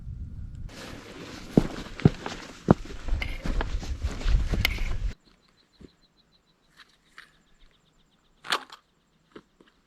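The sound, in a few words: footsteps trekking over moorland ground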